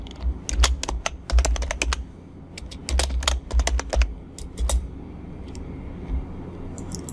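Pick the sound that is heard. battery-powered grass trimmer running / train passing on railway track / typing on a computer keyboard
typing on a computer keyboard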